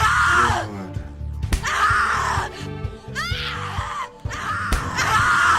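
A character in the horror video game The Cat Lady screams loudly and continuously in anguished, wailing bursts, with groans and yells rising and falling over a dense, rumbling game soundtrack.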